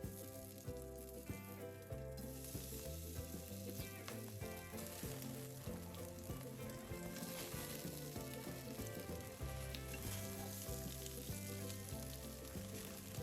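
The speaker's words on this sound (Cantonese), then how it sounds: "咁呢個時候咧就煎蝦啦。" Prawns pan-fry in a wok for spicy dry-pot shrimp, a soft continuous sizzle running under loud steady background music.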